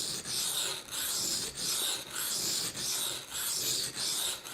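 A knife is sharpened on a coarse grit stone, with steady rhythmic rasping strokes, about six back-and-forth passes, close and even, each gritty scrape separated by a short pause.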